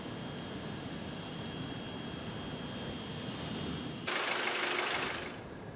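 The Indonesian presidential jet, carrying the president to Moscow, gives a steady roar with a thin high whine, then surges brighter and louder for about a second before settling back, with no voices.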